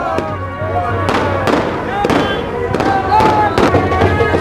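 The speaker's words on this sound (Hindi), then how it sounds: "आतिशबाजी हो रही है।" Fireworks and firecrackers burst repeatedly at a welcoming celebration for a saint returning from the Prayagraj Maha Kumbh in Sujangarh, with sharp cracks and pops spread across the moment under crowd noise and a steady low drone.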